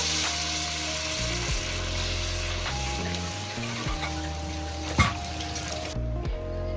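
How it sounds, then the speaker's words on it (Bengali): Masala frying in oil in a pan for chitol fish curry, a steady close sizzle with occasional stirring scrapes and clinks, and faint tonal hum in the background. "কষানো প্রায় হয়ে এসছে, হালকা তেল ছাড়তে শুরু করে দিয়েছে"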